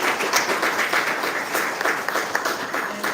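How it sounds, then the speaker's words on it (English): Audience applauding young authors at a children's book launch, a sustained wash of close, dense clapping for about three seconds. "Let's give them a round of applause."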